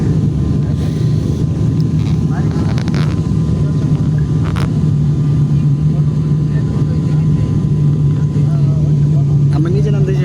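Steady loud roar of an airplane cabin descending toward Cox's Bazar, a constant low drone running throughout with a few faint clicks and rustles on top.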